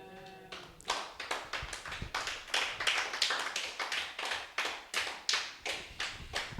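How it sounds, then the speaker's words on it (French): A church congregation claps at a worship service. The applause is steady and fairly even, with many hands beating in a loose rhythm, moderately distant and without voices. "Je croyais qu'on allait applaudir."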